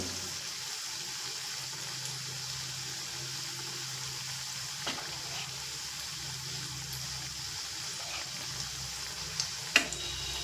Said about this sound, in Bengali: আর ভাজবো কিন্তু লো টু মিডিয়াম করে